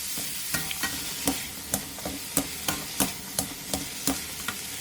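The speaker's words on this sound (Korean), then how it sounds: "소주 반스푼, 소금 2분의 1티스푼, 후추를 넣고 센 불에서 볶아주세요" Meat stir-fried over high heat with carrot, minced garlic, soju, salt and pepper, a steady close sizzle punctuated by about a dozen sharp rhythmic clacks of a utensil against the pan.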